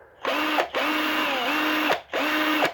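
A small power drill bores into a 1:64 scale diecast car, whirring in three close, loud bursts separated by short pauses.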